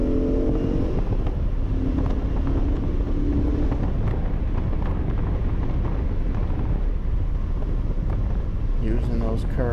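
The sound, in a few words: Jaguar XJ6C or XJS driving on Limerock race track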